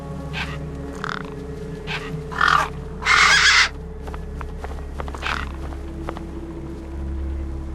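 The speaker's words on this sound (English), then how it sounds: "No way I was going to get between those birds and their feast." Birds caw harshly while squabbling over food in the game Beyond a Steel Sky, a few loud raspy calls rising over a steady low ambient hum, with fainter scattered cries between them.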